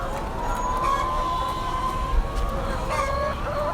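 Laying hens in an old wire cage cluck and squawk close by with rising, siren-like calls, over a steady background hum and a faint short knock.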